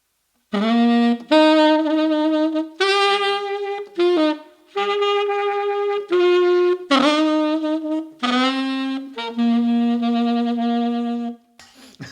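A solo saxophone plays a slow, simple melody of sustained notes, Amazing Grace, with brief breaths between phrases, close and clear with no accompaniment.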